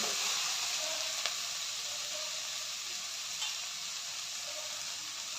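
Onion, tomato and carrot fry together in a pan, giving a soft, steady sizzle with a couple of faint stirring taps and no voices.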